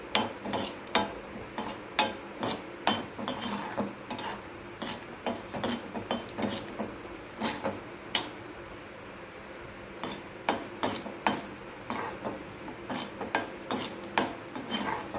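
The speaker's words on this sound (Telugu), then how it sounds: "దానికి ఒక 10-15 జీడిపప్పు, వేయించి పెట్టుకోవాలండి నేతిలో." Cashews fry in ghee while a metal spoon stirs them against the pan, giving a steady run of rapid clinks and scrapes over a faint frying hiss.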